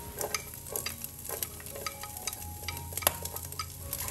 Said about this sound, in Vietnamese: Rồi mình xào sơ lên cho tôm khô nó dậy mùi thơm á.